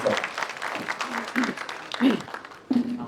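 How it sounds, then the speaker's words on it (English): An audience claps for the panelists at the close of a panel discussion on financial instruments, with moderate applause rising and falling under a speaking voice and a few louder swells. "How about a round of applause?"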